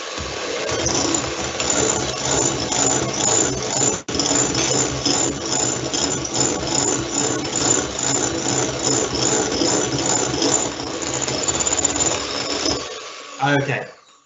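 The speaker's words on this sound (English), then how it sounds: "I'm just going to quickly whisk that one up." Whisk beating a tablespoon of sugar into fruit soufflé mixture in a bowl, a rapid, continuous metallic clatter with a brief break, then stopping near the end.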